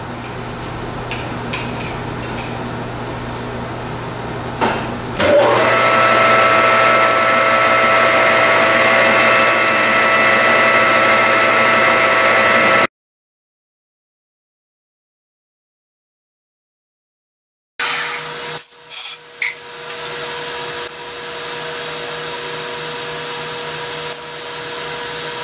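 Machine tool whine and cutting noise as a tube is machined on a lathe in a light three-thousandths pass, a steady loud tonal drone with a sharp onset, a gap of silence, then the motor running again.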